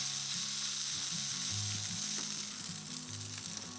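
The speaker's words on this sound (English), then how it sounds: "So I've still got that heat in the pan, still crisping up that lamb" Lamb mince crisps up in a hot pan, giving a steady, dense sizzle with a low hum beneath, continuous and fairly close, with no talking.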